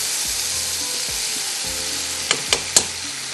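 Onions and garam masala fry in a pan with a steady, close sizzling hiss; a few soft stirring knocks and three sharper utensil clicks come near the end.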